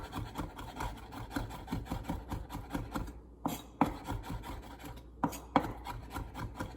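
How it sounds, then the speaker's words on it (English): A chef's knife finely chopping sage leaves on a wooden board, rapid rhythmic taps and rasping scrapes close up, with a couple of brief pauses and louder strikes, no talking. "you would just come through with a second round of your knife like this to get a finer chop"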